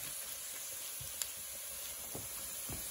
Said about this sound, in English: There's oil and ghee in the middle. I'm putting this jeera, cumin, and cook it for a few seconds.